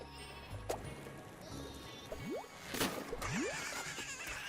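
Cartoonish sheep bleat amid game sound effects in the video game Flockers, with a couple of rising whistle-like swoops and scattered clicks and squishes over a low background hum.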